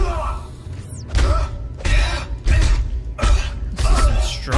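Glass struck repeatedly in the video game Dead Space 2 gives about five heavy, evenly spaced bangs with crunching, rattling impact noise, loud and close.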